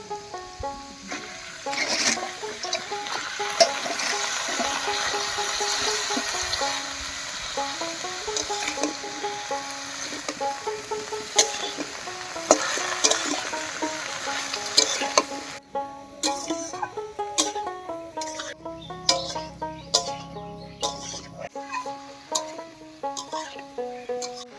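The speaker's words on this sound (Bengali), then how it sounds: "সবজিগুলো হালকা করে ভেজে নিলাম" Pumpkin, carrot, squash, potato and cabbage fry lightly in a pan, with a steady sizzle and repeated scraping stirs, and a few louder clanks of a utensil against the pan later on.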